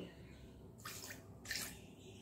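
Water poured into a rice batter for Udupi-Mangalore kappa rotti, heard as two short, soft splashy pours about half a second apart over a quiet background.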